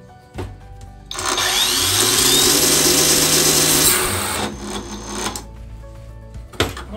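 A Herman WX-12506 1300 W brushless angle grinder with speed control runs loaded with an 11 kg weight, a loud steady whine that starts suddenly, holds for about three seconds and then winds down, with clunks around it.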